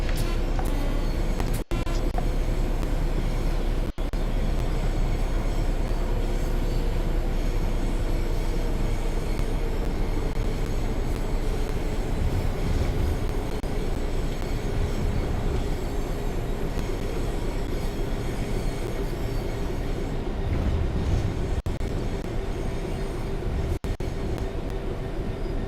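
A rail head treatment train in a video game runs continuously with a steady mechanical rumble and rail noise, a few sharp clicks over the track, no talking.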